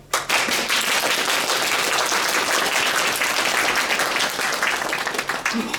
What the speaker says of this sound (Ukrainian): А зараз репетируємо гучними оплесками і запрошуємо акторів.